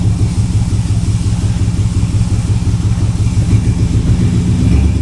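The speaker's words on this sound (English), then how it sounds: "Motor makes oil pressure." A 2002 Chevy Silverado 2500HD with a swapped 6.0L LQ4 V8 idles close by, a loud, steady rumble with an even low pulsing throb that carries on throughout.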